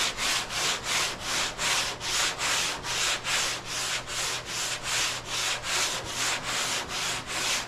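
Rhythmic back-and-forth sanding on epoxy primer, a steady run of about twenty close, even strokes with a raspy, papery scrape and no talking.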